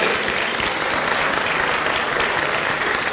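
Steady, dense applause from a concert audience honoring a guest, loud and continuous throughout with no break.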